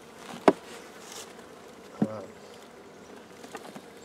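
Honey bees robbing honey from a weakened hive drone in a soft, steady hum, with two sharp knocks and a few faint taps over the buzz.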